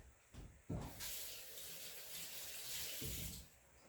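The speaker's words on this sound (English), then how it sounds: "Rinse my hands right quick." Water runs steadily from a tap as hands are rinsed under it in a home kitchen, a close, continuous splashing hiss with brief changes as the hands move through the stream.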